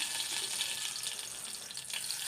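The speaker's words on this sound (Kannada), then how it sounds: "ಸ್ವಲ್ಪ ಸ್ಲೋ ಫ್ಲೇಮ್ನಲ್ಲಿಟ್ಟು ಮಸಾಲ ಫ್ರೈ ಮಾಡ್ಕೋಬೇಕಾಗುತ್ತೆ" Masala frying gently over a low flame for a restaurant-style mushroom gravy, a steady soft hiss and crackle running evenly throughout with no voices.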